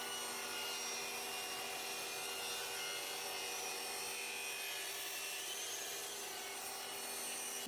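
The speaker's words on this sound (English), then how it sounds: "I raised the blade for a second wider cut and trimmed that corner off as well." A table saw rips through a wooden threshold with the blade raised for a wider cut, giving a steady, loud whining hum of the blade in wood for the whole stretch, close by and with no talk.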